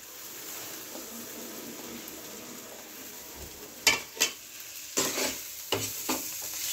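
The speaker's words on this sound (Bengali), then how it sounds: "এবার টমেটোটা যতক্ষণ না কাঁচা গন্ধটা চাচ্ছে ততক্ষণ আমি কষে যাব" Tomatoes being stir-fried on low gas into a duck egg do pyaza, with a soft steady sizzle and a cluster of sharp spatula scrapes against the pan near the end.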